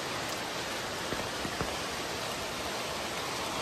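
Rain pours onto a waterlogged street, a dense, even hiss of falling water with a few brief drip or splash ticks, steady and close with no voices.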